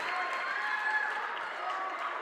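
A packed gym crowd at a high school girls' basketball championship roars steadily throughout, a dense, unbroken wash of cheering and clapping at moderate loudness.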